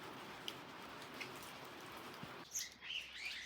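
A small bird chirps with a few faint, scattered calls while eating, set against light steady rain and wet outdoor background noise.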